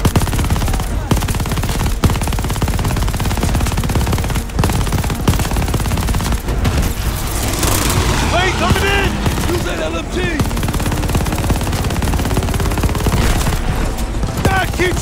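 Sustained automatic gunfire and rapid bursts from Call of Duty: Vanguard combat on the Numa Numa Trail, loud and dense throughout, with shouted voices and explosions mixed in.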